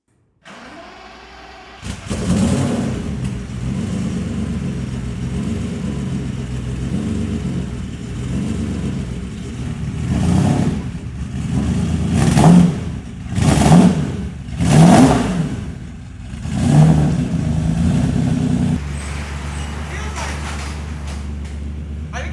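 A 750hp twin turbo Lamborghini Diablo engine drives off with a steady roar, then several sharp revs in quick succession, loud and close, before settling back to a lower hum.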